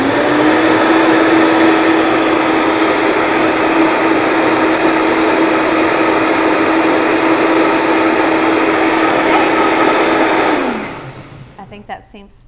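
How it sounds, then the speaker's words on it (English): A Vitamix blender, run upside down, mixes egg bite batter with a loud, steady motor whir for about ten seconds, then spins down and stops, leaving faint clicks and handling noise. "It's hard using a Vitamix upside down."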